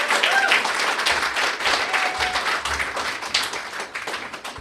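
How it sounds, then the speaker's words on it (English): An audience at a poetry reading claps for the poet Imani, a dense, steady burst of applause filling the room and tapering slightly toward the end, with little talk. "everybody clap a lot for Imani"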